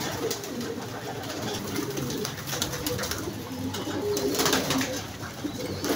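Racing pigeons cooing in a Manila loft, repeated soft throaty coos overlapping at close range with light rustling and scattered background noise; no talking.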